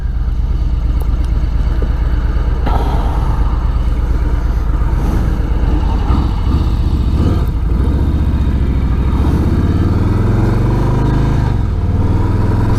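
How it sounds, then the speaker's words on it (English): A 2018 Harley-Davidson Street Bob (FXBB) with a Milwaukee 8 engine being ridden, a loud continuous low engine rumble with wind noise and a rising rev toward the end, close and steady without talk. "Definitely feel the power with the Milwaukee 8 in retrospect to the weight of this bike."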